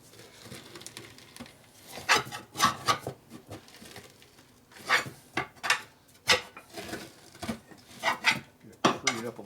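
Irregular creaking pops and metallic knocks as a rusted 1950s 15-inch split rim frees up, clustered sharp bursts with quiet gaps between them, heard up close.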